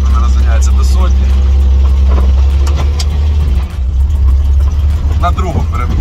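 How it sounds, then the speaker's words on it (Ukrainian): Inside the cabin of a 1954 GAZ M-20 Pobeda with a 2.9-litre engine and manual gearbox, a loud low engine drone fills the space while driving, with someone talking over it. "в салоні дійсно шумновато від цього мотору"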